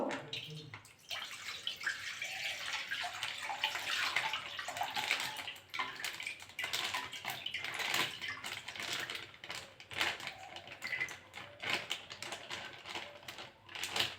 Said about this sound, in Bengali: কড়াতে একটু জল দিয়ে দেবো দুধ দিয়ে দেবো